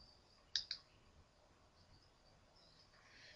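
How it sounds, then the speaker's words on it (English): A computer mouse gives two quick, close clicks near the start while setting up a business fan page invitation, then only faint room hiss remains; no talking. "Click on there."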